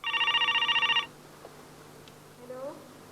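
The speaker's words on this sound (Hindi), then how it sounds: "कोई फोन नहीं उठा रहा, लगता है घर पर ही नहीं है।" Landline telephone ringing unanswered in a home, a loud electronic double-burst ring for about a second, then a quiet room with a faint vocal sound near the end.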